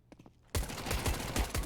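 AK rifle firing in Counter-Strike during a professional match, a rapid burst of several close shots after a brief quiet start.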